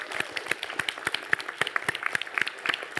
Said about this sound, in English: all of you deserve a huge round of applause